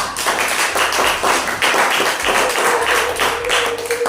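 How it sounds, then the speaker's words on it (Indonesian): A classroom of students claps for group A, a steady, dense burst of many hands that continues throughout, with no talking over it. "Ayo tepuk tangan untuk kelompok A"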